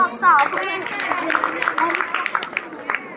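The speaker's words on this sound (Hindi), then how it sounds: "इसके लिए भी जोरदार तालियां" Crowd clapping for a girl at a Guru Ravidas jagran in a village, a steady patter of many hands running throughout with a loud voice talking over it.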